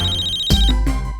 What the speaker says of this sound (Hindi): तुम्हारा फोन बज रहा है, उठा लो